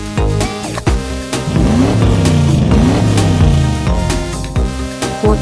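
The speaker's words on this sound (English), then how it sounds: "Motorcycle." A toy motorcycle engine revs in loud electronic bursts, rising and falling in pitch with sharp clicks between the revs, close up and with no talking.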